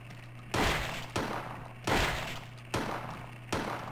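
Five sharp, loud gunshots from the PSX game Silent Hill ring out at uneven intervals, each with a short decaying tail, over a steady low hum.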